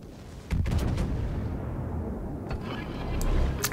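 Battleship secondary guns fire in a World of Warships naval battle, a few sharp booming reports over a constant low rumble of engine and sea, moderately loud, with a faint voice underneath.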